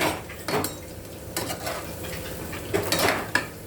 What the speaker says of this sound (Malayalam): കുറച്ച് പാത്രം എടുത്ത് മാറ്റണം കേട്ടോ